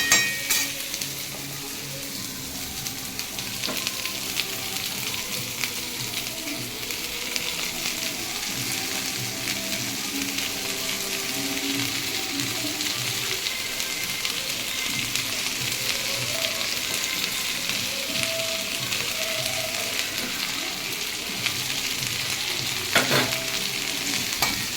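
Sweet potato and cabbage fry with cumin in a pan, giving a steady, close sizzle with light stirring scrapes that runs throughout without any voices.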